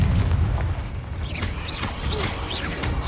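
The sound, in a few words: Incendio and Confringo spell blasts in Hogwarts Legacy video game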